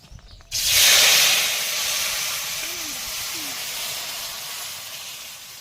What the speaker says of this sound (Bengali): এবার কিন্তু জিরে ফোড়ন দিয়ে দিচ্ছি।